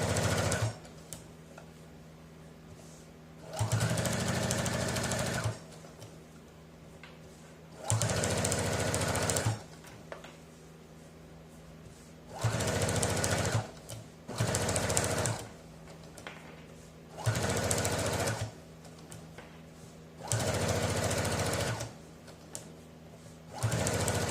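Sewing machine stitching a finishing seam along a zipper, running in repeated bursts of rapid, loud mechanical clatter a couple of seconds long, separated by pauses with quieter handling noise.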